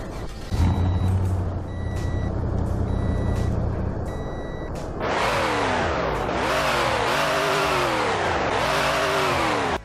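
A 2021 Toyota Land Cruiser engine in a video game idles with a steady beeping, then revs hard in repeated rising and falling sweeps, loud and close.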